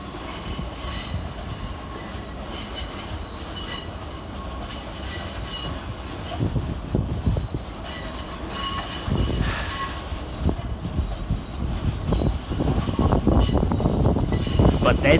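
Southwestern Railway class 455 electric trains moving at London Waterloo station, a rumble that builds with squealing wheels and clatter, heard fairly near, with station voices in the background.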